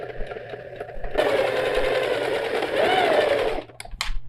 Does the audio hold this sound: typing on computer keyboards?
no